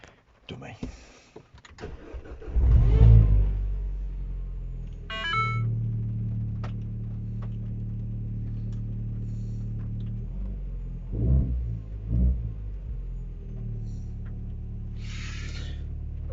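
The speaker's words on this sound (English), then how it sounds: "I'm going to start the car." A car engine cranks and catches, then settles into a rumbling idle with a few rises, mechanical clicks and clunks around it, while someone talks over the running engine.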